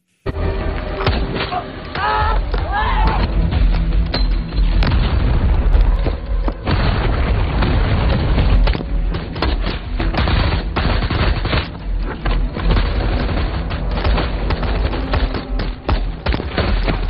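Battle on a mountain in a war film: dense, continuous gunfire and automatic bursts mixed with deep explosion booms, loud and sustained throughout with no pause.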